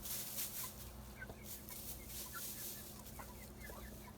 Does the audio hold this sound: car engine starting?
no